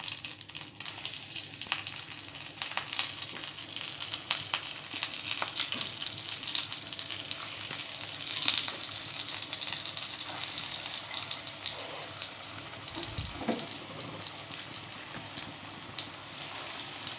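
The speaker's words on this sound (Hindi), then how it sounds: "अब ये मैं जो तैयार करके रखी हूँ कटलेट, वो तलने के लिए डालती हूँ।" Egg cutlets fry in hot oil in a pan, a close, steady crackling sizzle with dense pops and spatters and a brief stirring or turning sound near the end, no voices over it.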